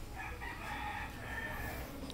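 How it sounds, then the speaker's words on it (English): A rooster crows in one drawn-out call, moderately loud over low rumbling background noise. "And the birds say, tick-till-a-ok."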